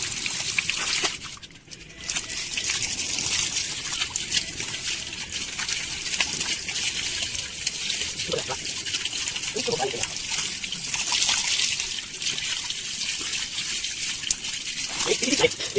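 Water pours and splashes over a dog in a continuous trickling, gushing stream that runs throughout, close by, while people talk and call out over it.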